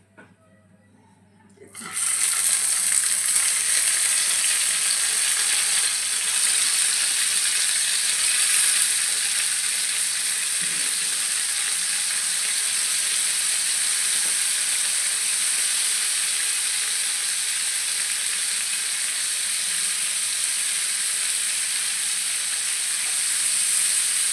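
Paneer masala tikkis sizzle steadily in a small amount of oil in a pan, a loud, continuous bright hiss that starts abruptly after a brief quiet moment and holds evenly throughout, with no talking over it.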